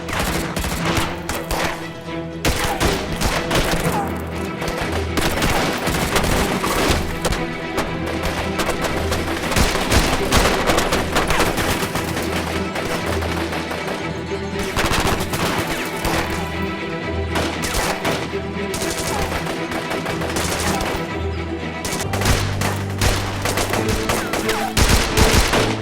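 Loud, dense gunfire from a TV drama crackles in rapid volleys and bursts, with booming impacts over a tense musical drone.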